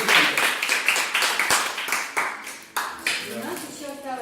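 Scattered applause from a small audience at an award ceremony for a children's cat drawing contest held in a hotel, with uneven clapping in bursts that thins out, some sharp isolated claps and faint voices underneath.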